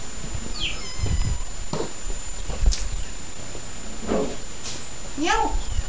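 Several house cats meow a few times, thin rising-and-falling cries surfacing briefly over low household noise and background voices.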